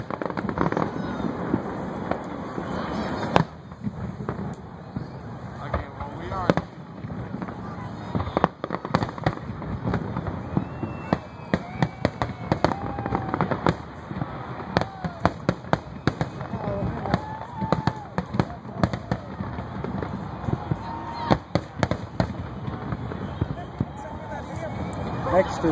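Dense, irregular bursts of Canada Day fireworks in Edmonton crackle and pop throughout, with people talking and chattering underneath.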